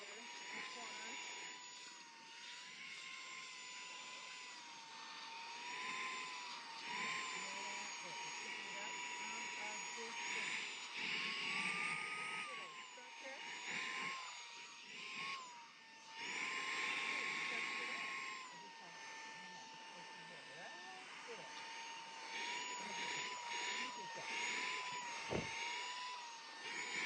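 SAKER 3 in 1 mini vacuum cleaning a floor inside a van, giving a steady, fairly quiet motor whine with a constant airy rush that dips briefly and swells as it moves around corners.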